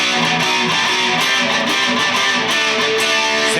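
Electric guitar bar chords playing a riff, a driving, evenly strummed rhythmic pattern with a slightly gritty tone, continuous and alone.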